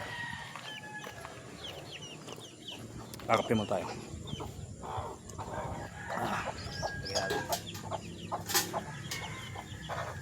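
Chickens cluck and squawk nearby, with a rooster-like call rising in the middle, while a person talks over the birds.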